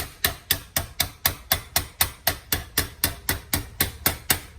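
A hammer strikes a sheet metal patch panel for a 1965 Midget, held in a vise. About seventeen sharp, evenly spaced metallic taps ring out in a steady rhythm, close and clear.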